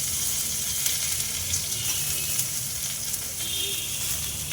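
Drumstick flowers hit hot oil with frying potatoes and sizzle steadily in a pan, a continuous close hiss with faint clinks and no talking.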